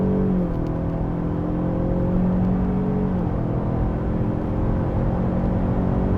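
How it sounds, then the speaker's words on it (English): A steady low engine drone from a 4-cylinder car fills the cabin as its 10-speed automatic transmission shifts gears, the pitch dropping at each change, continuous and fairly loud with no talking. "The transmission performance, just listen to the shifts."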